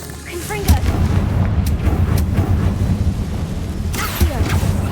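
Confringo explosive spell in the video game Hogwarts Legacy, with several booming blasts and sharp cracks over a rumbling battle backdrop, a voice speaking briefly.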